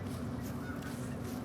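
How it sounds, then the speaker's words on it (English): Geese honk in the Yukon Valley video game, a dense, continuous chorus of overlapping calls blending into a steady outdoor wash at moderate volume. "geese being as bad as they are now. They're just all over the place"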